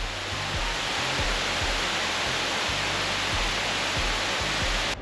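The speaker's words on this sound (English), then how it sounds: "Our next stop was one of the park's most famous attractions, Brandywine Falls." Brandywine Falls, a 65-foot waterfall in Ohio's Cuyahoga Valley National Park, pours as a steady, dense rushing roar with low rumbling thumps underneath, constant and close throughout.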